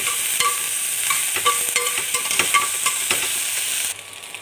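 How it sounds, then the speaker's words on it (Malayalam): Crushed ginger and garlic sautéing in hot oil with cumin in a pan for prawn fry, giving a loud, continuous close sizzle broken by irregular stirring scrapes, dropping abruptly near the end. "നമ്മൾ ചതച്ച് വെച്ച ഇഞ്ചി വെളുത്തുള്ളി ഇട്ട് കൊടുക്കാം ഒന്ന് വയറ്റി കൊടുക്കാം"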